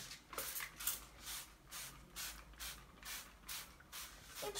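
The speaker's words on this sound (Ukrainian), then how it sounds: "І пшикаємо на стіну." Baugat primer sprayed onto a wall in a steady series of about eight hissing bursts, each a short broadband spray separated by brief pauses, close and fairly quiet with no talking.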